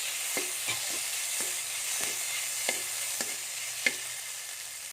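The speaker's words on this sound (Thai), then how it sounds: "ผัดให้หอมก็ใส่หมูนะคะ ผัดให้หอมเลย" Pork being stir-fried for a northern Thai jackfruit curry, a steady hiss of frying under regular spatula scrapes and taps against the pan, close and fairly loud, with no talking.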